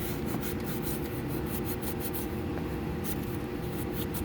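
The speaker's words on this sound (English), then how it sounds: "I'm just going to take it all around on the mating surface here. It's not going to take much to scuff this off." An abrasive pad scrubbing the engine mating surface around a water pump seal on a 2014 Chevy Malibu, a continuous close raspy rubbing with quick back-and-forth strokes and no voices.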